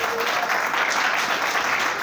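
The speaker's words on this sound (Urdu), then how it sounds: "زوردار تالیاں بجائیں۔" An audience applauds loudly and steadily, a dense, continuous wash of clapping with no break.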